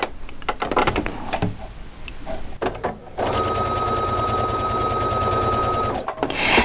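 An electronic sewing machine stitches a quarter-inch quilt seam in one smooth, steady run of fast, even whirring lasting about three seconds, after some brief handling clicks and rustling.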